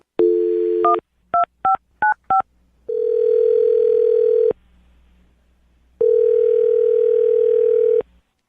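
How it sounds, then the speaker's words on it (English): A phone call being placed: short bursts of touch-tone dialing beeps, then two long, loud ringback tones separated by a pause, clean and close. "I'll dial her phone number right now, see if we can get her to answer"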